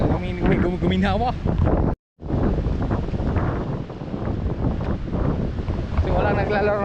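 Typhoon wind and rain roar steadily outdoors, a dense wash of noise broken by one brief dropout, with a person talking over it throughout.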